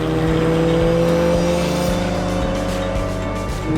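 Canepa-built Porsche 914 carrying a 1980s Porsche engine with nearly double its original horsepower accelerates at full throttle, a loud, sustained engine howl with steady harmonic roar and no voices.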